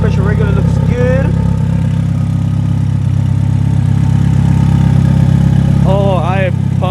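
Rebuilt Mitsubishi Evo 8 engine idling steadily just after its first start, a loud continuous low drone that runs throughout, with a voice talking over it at the start and again near the end.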